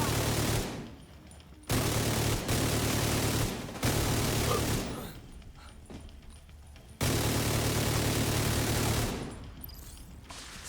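Heavy automatic gunfire in a video game rattles in long sustained bursts, loud and close, broken by brief pauses between volleys.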